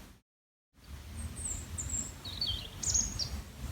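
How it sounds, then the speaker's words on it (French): Several birds chirp and sing in short high bursts across an olive grove, moderately close, over a steady low outdoor rumble after a brief silent gap. "Les oiseaux qui chantent."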